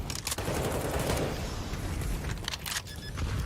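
Mac-10 gunfire in Counter-Strike on Dust 2, rapid bursts of shots with a few sharp cracks near the start and end over a busy background.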